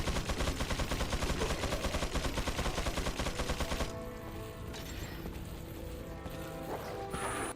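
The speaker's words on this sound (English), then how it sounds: "The machine gun guy." Machine gun fire in Resident Evil 4, a rapid continuous rattle of shots at steady rhythm for about four seconds, then quieter game ambience with mechanical sounds.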